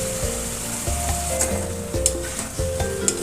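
Fried pumpkin and potato pieces drop into a hot pan of oil and spices for a pumpkin curry, setting off a steady, close crackling sizzle with a few sharper pops and no voices.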